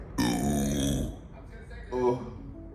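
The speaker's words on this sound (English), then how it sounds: "I don't care, I be burping." A man lets out a long, loud, croaking burp, followed about a second later by a shorter, weaker one, both close to the microphone.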